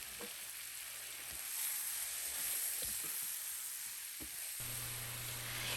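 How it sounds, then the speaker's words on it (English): One pound of bulk breakfast sausage sizzles and fries in a hot pan with a steady bright hiss, with occasional soft stirring clicks and scrapes, and no talking. "once that starts to saute, we're gonna add in our bulk sausage, which is 1 pound"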